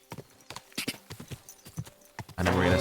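Horse hooves clip-clop in Kingdom Come: Deliverance II, a string of close, uneven hoof strikes on hard ground at a slowing gait, ending in a louder burst of noise.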